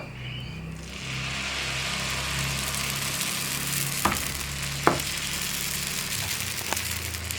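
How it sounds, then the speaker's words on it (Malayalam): Tomato dosa batter meets a hot oiled pan with a steady loud sizzle throughout, broken by a couple of sharp clicks from a utensil touching the pan. "ഇതിലേക്ക് നമുക്കിനി ദോശമാവ് ഒഴിച്ചു കൊടുക്കാം"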